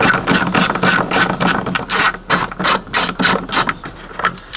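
A ratchet with an extension clicks in quick, loud bursts as it removes the windshield washer reservoir bolts in the engine bay of an Oldsmobile Cutlass.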